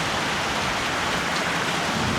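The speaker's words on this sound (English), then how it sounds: "Oh, here comes the rain. Oh," Dense, steady rain hisses continuously with no pauses, loud and close throughout.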